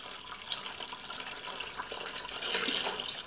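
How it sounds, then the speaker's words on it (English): Tap water pouring into a bucket being filled at home, a steady broadband rush of running water at moderate level throughout, growing slightly louder toward the end. "we're filling the bucket up with water"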